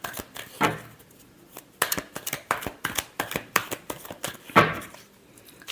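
Tarot cards shuffled by hand in a series of sharp riffling bursts and soft slaps, close and crisp, with two longer riffles standing out among shorter taps, and no talking.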